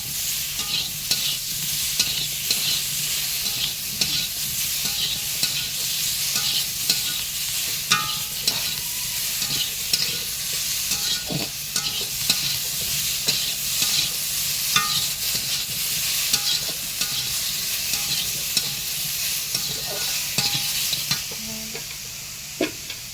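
Turmeric and spices being sautéed in a pan during home-style Bengali cooking, with a steady sizzle and frequent stirring scrapes running throughout, close and fairly loud, without talk.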